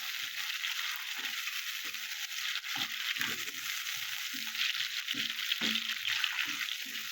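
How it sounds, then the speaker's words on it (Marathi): Chopped tomatoes fry in a pan for ragda, a continuous sizzle with intermittent clinks and scrapes of stirring. "आता यामध्ये आपण टोमॅटो चिरून घेतलेला घालायचा आहे। टोमॅटो पण चांगला परतून घ्यायचा आहे।"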